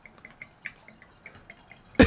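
Cheap wine being poured into a glass, with soft rhythmic splashes and drips from close by that end in a sudden louder burst.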